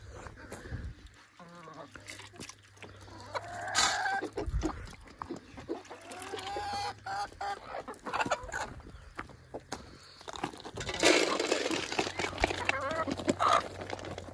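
Free-range village chickens cluck intermittently close by over a noisy farmyard background, with scratching and shuffling as they peck around and feed on wheat.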